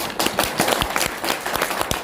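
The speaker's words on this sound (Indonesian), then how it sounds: "Tepuk tangan." Attendees at an Indonesian ulama forum in a Jakarta hotel clap in brisk applause, individual sharp claps standing out clearly and close in a lively patter.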